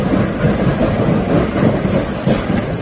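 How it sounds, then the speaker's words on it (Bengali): A train rolls along steadily in an audio drama effect, a loud, dense rumble and rattle of carriages on the rails that stays even throughout with no voices. "দেখতে দেখতে ট্রেনের গতি মন্থর হয়ে এলো।"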